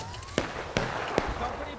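Three sharp rifle shots ring out about every 0.4 seconds in War of Rights, a Civil War-era multiplayer battle, loud and echoing over a low background din.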